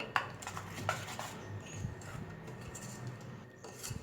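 Dhokla batter being stirred in a bowl, faint soft scraping with a few light clinks of a spoon against the bowl at irregular intervals in a quiet room.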